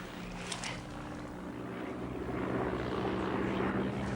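Airplane passing overhead, a broad engine roar that gradually swells and grows louder over a few seconds, with a brief sharper noise near the start and no talk.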